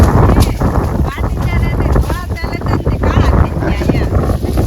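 Strong wind buffets the microphone in an open sesame field during threshing, loud rumbling gusts that rise and fall, with people talking underneath.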